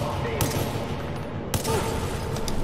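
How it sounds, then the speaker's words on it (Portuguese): Gunfire in the video game Far Cry 3 rattles out in a couple of sharp bursts over a constant rumbling ambient bed, close and fairly loud. "Atirando em mim."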